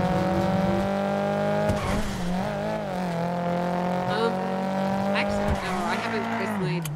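A video game car's engine drones and shifts pitch under a steady whine as tires squeal through turns, loud and continuous, with people talking over it.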